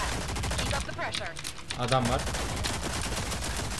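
Gunfire in the video game Rogue Company, rapid overlapping bursts of shots and impacts rattling almost continuously, with a voice talking over the action.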